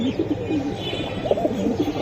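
Pigeons cooing up close at a Bangladeshi pigeon market, with repeated soft, throaty rolling coos overlapping one another plus a few chirps, loud and continuous across the short stretch.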